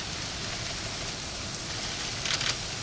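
Steady rain sound effect from a stage musical performance, a soft continuous patter of falling rain at low level, with a brief brighter burst near the end and no voices.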